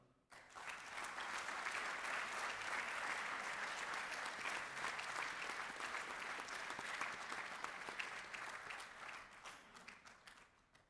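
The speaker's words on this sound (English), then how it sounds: "let us again have one more round of applause for all of our servicemen and women" Audience at a 2015 armed services ceremony gives a long, steady round of applause that swells quickly, holds evenly for several seconds and then gradually tapers off.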